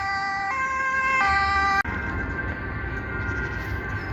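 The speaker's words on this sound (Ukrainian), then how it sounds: "Пожарка кудись їде." A fire engine siren wails loudly on a street in the Netherlands, stepping between two pitched tones as it passes close by, then gives way to steady road and traffic noise.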